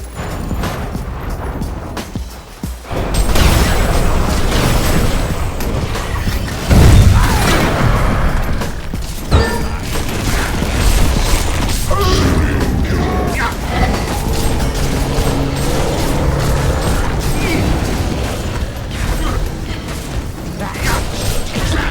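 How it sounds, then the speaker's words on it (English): A tower being destroyed in the video game Heroes of Newerth, with dense, loud mechanical clanks, crashes and booms running continuously from start to end. "Your tower has been destroyed."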